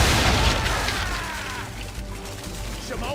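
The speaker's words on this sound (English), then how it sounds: "Prepare to fire! You missed. Best bring her round again. Fire broadside!" Ship cannons fire a broadside in the video game Assassin's Creed 3, a heavy booming blast rolling into dull rumbling and crackle, with game voices speaking over it.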